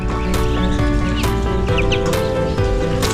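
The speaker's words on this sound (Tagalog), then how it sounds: "Nakatali po itong mga tandang ko dahil kasi nagsasabong po sila." Tethered fighting roosters on a small backyard farm cluck and call in a dense, continuous stream of overlapping bird sounds, loud and close throughout.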